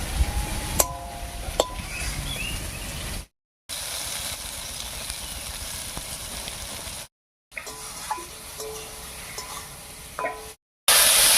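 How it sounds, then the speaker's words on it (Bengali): Sliced ridge gourd frying in oil in a pan, a soft continuous sizzle broken by short silent gaps, with occasional clinks and scraping stirs close by. "ঝিঙেটা ভাজার সময় লবণ হলুদ দিলাম না"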